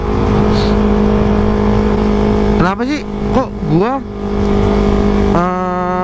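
Big motorcycles pass close by on a road, engines revving loudly in rising and falling sweeps as they go by, with someone talking over the steady traffic noise.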